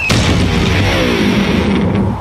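An electric guitar thrown off a 20-story building hits the ground with a loud booming crash, then a lingering metallic, droning resonance of strings and body that rings on and slowly fades.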